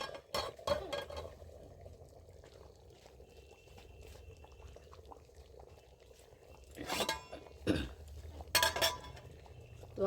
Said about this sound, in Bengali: এবার আমি ঢাকনাটা খুলে দেখতেছি তরকারিটা আমার কীরকম হয়েছে।